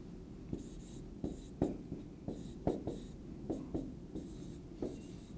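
A pen or marker writes out a math equation, with a series of short scratchy strokes and taps in uneven rhythm, close and quiet with no talking.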